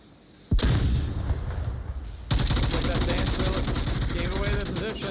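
In the VR shooter Onward, a sharp, loud flashbang bang cuts in suddenly, followed a couple of seconds later by a sustained burst of heavy, rapid gunfire that carries on to the end.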